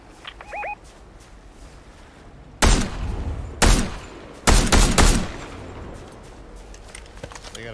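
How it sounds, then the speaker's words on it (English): Gunfire in the video game Fortnite: a few short bursts of shots ring out loudly, separated by pauses, with a faint chirping sound early on before the firing starts. "What are you guys shooting at?"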